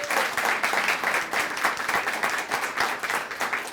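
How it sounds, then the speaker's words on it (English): An audience gives a round of applause for students at a school event, dense steady clapping that carries on evenly throughout. "But let's give our students another round of applause."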